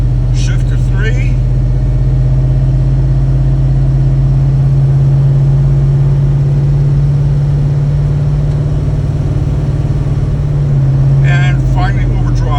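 A carbureted car with an AOD automatic transmission drives under light throttle, its engine droning steadily up close with a slight change in pitch near the end, and a voice speaks briefly at the start and finish.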